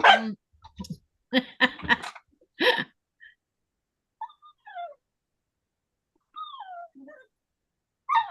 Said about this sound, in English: She hears my dog.